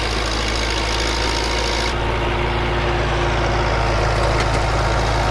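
A Country Way tiller engine runs steadily and close by as it works the last row of a garden bed, its rough mechanical drone continuous throughout with a faint shift partway through.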